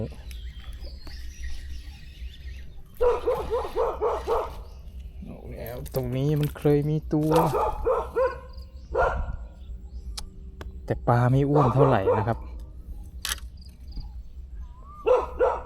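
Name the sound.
dog barking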